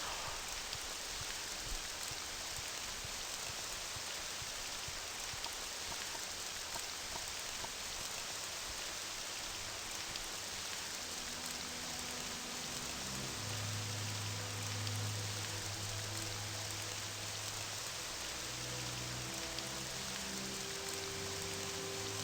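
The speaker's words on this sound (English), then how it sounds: "It's still raining and I can't hear a thing." Steady rain in the video game Morrowind patters on surfaces, a soft continuous hiss with no talking, while faint low tones drift in toward the end.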